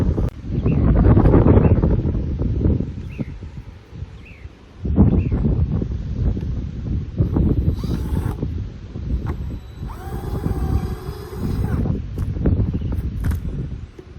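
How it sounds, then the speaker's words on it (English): Gusty wind buffets the microphone in heavy rumbling waves, with rustling and faint clinks and scrapes of handling vinyl gutter parts in between. "All right, now, whew, really windy."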